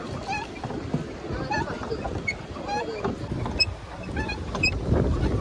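A pedal boat moves across a lake at Yelagiri Hills, with continuous water sloshing and splashing close by and gusts of wind buffeting the microphone throughout.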